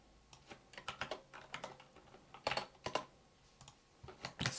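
Someone types on a loose, worn computer keyboard, clusters of crisp clacking keystrokes in uneven bursts with short pauses between, close and fairly quiet.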